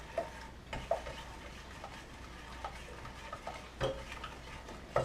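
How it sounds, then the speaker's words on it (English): Butter melting in a pan for flapjack, stirred with a spoon that ticks and taps against the pan at irregular intervals, quiet and close over a soft low hum. "Keep stirring all the time because you don't want it to catch on the bottom of your pan"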